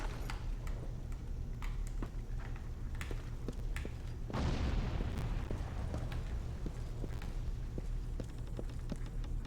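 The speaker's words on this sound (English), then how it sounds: "Grenade!" A grenade goes off in the video game Resistance: Fall of Man: a single muffled, rumbling boom midway through, set against steady game ambience and scattered ticking clicks, with no talking.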